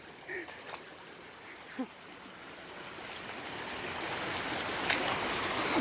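A river streams steadily through a Konkan village area, a soft broadband rush that swells gradually louder, with a few faint splashes and brief distant sounds early on.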